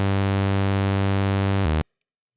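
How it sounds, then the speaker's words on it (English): A bright, buzzy synthesizer saw wave holds one steady low note, then shifts briefly higher before cutting off into silence. "So we have a saw wave."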